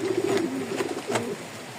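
A Lahori pigeon coos close by, a few soft throaty rolling notes in quick succession, then quiet.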